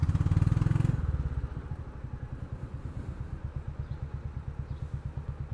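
A Royal Enfield motorcycle engine thumps in a steady, even rhythm while riding on a highway near a toll plaza at dawn, louder for the first second, then a lighter, regular pulse.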